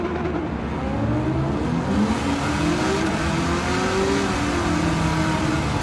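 A rear-wheel-drive V8 muscle car revs and accelerates in a Gran Turismo 7 drag race, a steady, dense engine roar with rising pitch sweeps and no talking.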